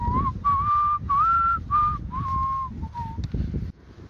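Someone whistles a cheerful, bouncy tune in short melodic phrases, close and clear, over a low rumbling background.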